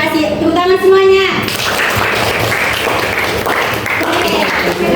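Classroom students clap together in a brisk, dense burst of applause after a short voiced call from a teacher, the clapping filling the room steadily to the end.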